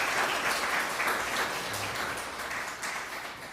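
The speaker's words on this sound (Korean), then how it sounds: "우리 하나님께 감사의 박수 드리겠습니다." A church congregation claps in thanks during a Sunday anniversary service in Darmstadt, a steady sustained applause filling the room at moderate level for the whole stretch, with no voices standing out.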